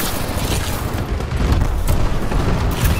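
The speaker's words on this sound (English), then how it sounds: "Friendly bombing run incoming." Bombing run explosions in Call of Duty: Advanced Warfare rumble as a loud, continuous wash of deep booms and blasts, dense and distorted, filling the whole stretch without pause.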